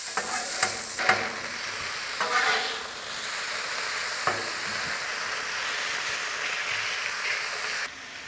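Potatoes and sausage frying on a Blackstone griddle, a loud, continuous bright sizzle with a few scraping spatula stirs early on, fairly close and with no talking.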